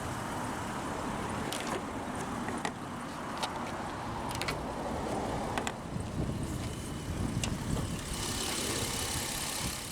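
A 2010 Jeep Wrangler's 3.8-liter naturally aspirated Chrysler EGH V6 idles with a low, continuous rumble, with light mechanical ticks and clicks scattered over it, fairly close.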